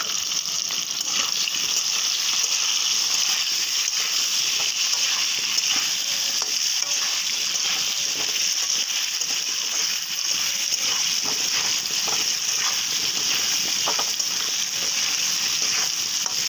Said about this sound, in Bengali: বন্ধুরা আমার আলুটা ভাজা হয়ে গেল